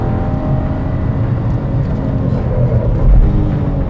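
Dodge car engine revving and droning through downshifts done without heel-toe, loud and close, with pitch swells and a late surge as the gear drops, no talk.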